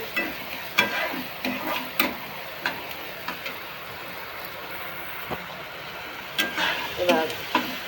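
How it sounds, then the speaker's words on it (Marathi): Onion and tomato frying in a pan, a soft steady sizzle under repeated sharp scraping and tapping strokes of a spatula at an irregular pace, no voices. "कांदा टोमॅटो चांगला भाजायचा."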